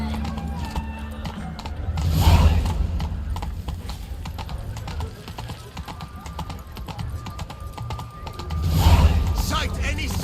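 Roach, the horse in The Witcher 3: Wild Hunt, gallops with a steady clip-clop of hooves that surges loudest around two seconds and again near nine, while someone speaks over parts of the ride.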